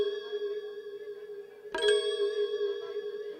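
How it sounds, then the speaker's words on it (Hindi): A single bright metallic bell strike rings out with a sustained, slowly decaying tone, struck again partway through with a sharper clang, during a Chhattisgarhi nacha comedy stage performance. "घंटी बजाऊं"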